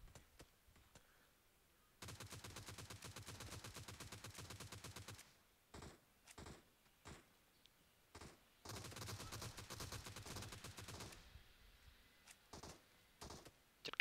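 PUBG Mobile gunfire: quiet bursts of rapid automatic shots in the game, one long sustained volley, then short separate bursts and another extended stretch of fire.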